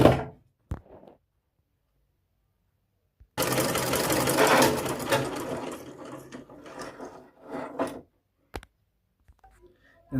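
A belt is taken off a sewing machine: short mechanical clicks, then a few seconds of silence, then a sustained stretch of rattling, whirring handling noise that fades into scattered clunks.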